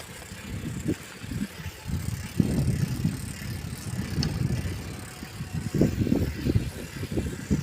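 A bicycle rolls along a road with a low, uneven rumble of tyres and chain, steady and fairly close, with faint traffic noise behind it.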